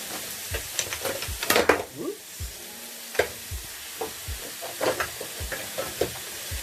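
Beef for a fricassee, heavily seasoned with black pepper, sizzles loudly in a hot pan. Frequent scraping and clattering stirring strokes cut through the close, steady frying hiss, with no talk.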